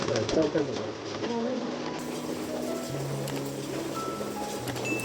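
A satinette pigeon coos softly in a steady, noisy indoor setting, its low calls barely standing out from the background.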